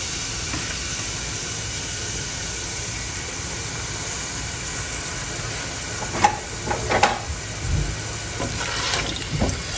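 Chicken pieces dropped into a few spoonfuls of hot oil give a steady, loud, hissing sizzle, with a handful of clattering stirs and knocks from the pan toward the end.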